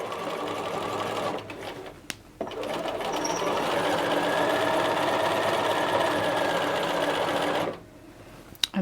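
A sewing machine runs steadily, basting a knit sleeve cuff, with a brief pause near the start and stopping toward the end; loud and close, alone without talk.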